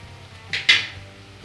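Two quick metal clinks of a spoon against a pan as rava kichadi with vegetables is stirred, close and fairly crisp over a faint hum.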